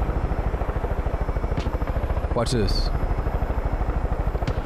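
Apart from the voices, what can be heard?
helicopter in Far Cry 5 video game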